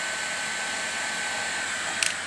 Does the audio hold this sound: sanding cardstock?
no